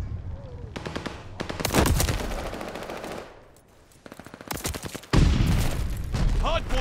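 Call of Duty: Vanguard multiplayer gunfire, with bursts of rapid machine-gun rattle and sharp shots, a brief lull and then a loud renewed volley, mixed with shouted game voice callouts.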